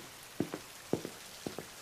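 Rain falls in heavy drops, three paired splashes striking a nearby surface at a steady rhythm over a soft background hiss.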